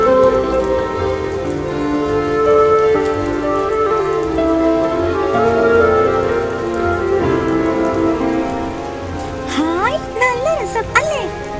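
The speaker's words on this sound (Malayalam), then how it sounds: "ഭാഗ്യം, മഴ കുറഞ്ഞു." Rain pours steadily in an animated children's adventure story, a dense hiss of drops running throughout beneath music and talking voices.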